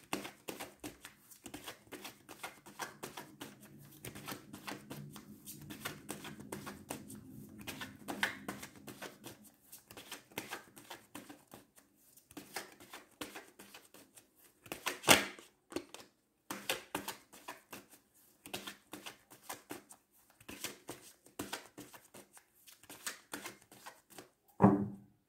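Tarot cards being shuffled, soft rapid riffling and flicking in bursts at close range, with quiet gaps and a few sharper slaps of cards, no talking.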